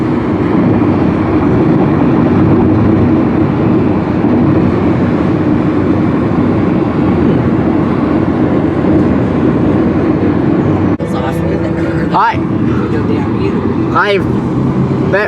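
Car wheels hum steadily on a hill road, a loud continuous rolling drone heard from inside the moving car, with brief voices breaking in near the end.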